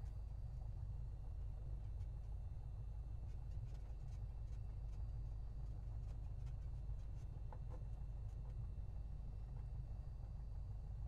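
Lionhart Trinidad TB-21 aircraft engine taxiing in a flight simulator game, a steady low droning hum that stays even throughout, fairly faint with no talk.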